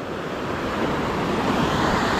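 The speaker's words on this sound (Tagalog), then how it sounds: "kita nyo naman po, sobrang lalaki ng alon" Big ocean waves rolling near a boat close to shore, a loud, continuous surging wash with wind buffeting, steady and building slightly, with no talk.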